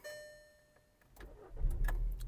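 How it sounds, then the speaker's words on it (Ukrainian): The 1.6 MPI engine of a Skoda Octavia with 203,000 km cranks over and catches, rising into a low rumble that settles into a steady idle, close by and alone. "Запустимо двигун."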